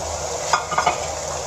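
Chicken karahi frying over low heat in a pan makes a steady close sizzle, broken by a few brief scraping stirs.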